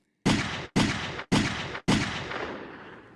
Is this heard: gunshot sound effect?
yes